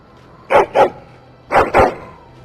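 A dog in the video game Dragon Age Origins barks in two quick double bursts about a second apart, each woof clear and close, over a quiet game background with no talking.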